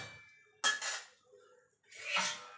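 Metal lid set onto a pot of chicken curry cooking on a gas stove: two close metallic clatters with a brief ringing tail, about a second and a half apart.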